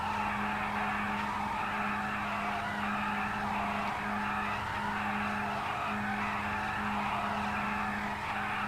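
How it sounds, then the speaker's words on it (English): A front-wheel drive car in the San Andreas video game spinning a donut, its tires skidding in a continuous loud squeal over a steady engine drone, with no talking. "this is a front-wheel drive car, hence why the back wheels are sitting still and the front wheels are doing a donut"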